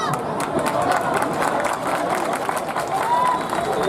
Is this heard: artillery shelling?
no